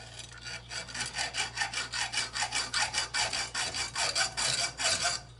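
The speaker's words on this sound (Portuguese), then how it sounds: "Não precisa nem serrar muito, é só um toquezinho mesmo que ele já se abre" A hand saw cuts a cheap wire coat hanger with quick, even back-and-forth strokes, about four rasping passes a second. The scraping is close and steady over a low background hum.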